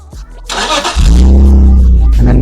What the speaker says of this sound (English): Can you start the car, please?